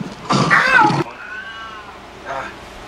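A house cat gives a loud drawn-out meow close to the mic, then a fainter, shorter second meow after a pause.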